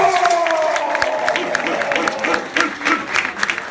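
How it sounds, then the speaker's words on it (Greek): An audience applauds at a LARP Greece presentation at the FantastiCon 2016 convention, with steady, dense clapping filling the room throughout and faint voices underneath. "Να ακούσω από ένα χειροκρότημα για"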